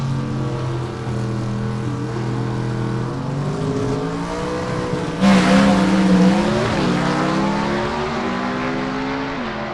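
A gasser drag race car with a mechanically fuel-injected motor roars loudly down the strip at a Southeast Gassers Association event, its rising engine note surging sharply halfway through as it pulls hard, with a second car audible alongside.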